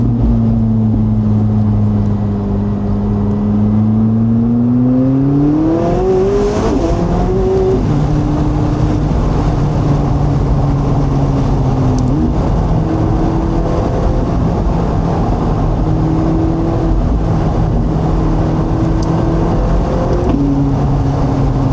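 A McLaren 675LT Spider's exhaust roars loud and close while it drives, with the engine note climbing under acceleration, a shift, then sustained throttle at a rhythmic cruise.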